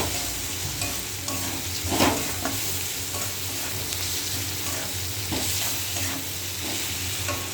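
Spices with salt sautéed in a pan before boiled cabbage goes in, making a constant close sizzle with soft stirring scrapes and a few louder knocks near the start.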